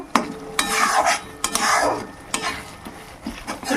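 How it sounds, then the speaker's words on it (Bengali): Spice paste being stir-fried in fish oil for a rohu fish curry, with a spatula scraping the pan in repeated strokes over a steady close sizzle. "এবার আমি এখানে মাছের তেলটা দিয়ে আরও ভালো করে কষিয়ে নেব"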